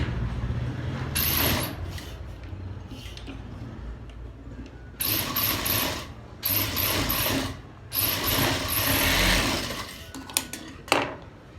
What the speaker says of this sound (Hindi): अभी इसको हम सिलाई करेंगे। बिस्मिल्लाहिर्रहमानिर्रहीम। ऐसे सिलाई करेंगे, बिल्कुल किनारे पे सिलाई हो